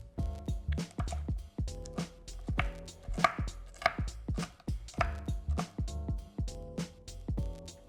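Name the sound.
cutting chicken into bite-sized pieces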